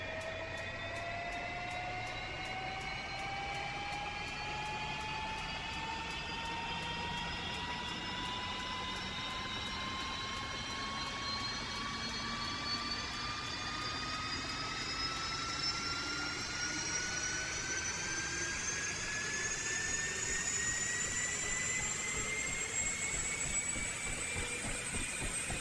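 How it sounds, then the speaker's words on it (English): A Huey helicopter engine in DCS World spools up, a continuous turbine whine climbing steadily in pitch for the full length over a constant low rumble, with no voices. "And so we'll get the engine spooling up here"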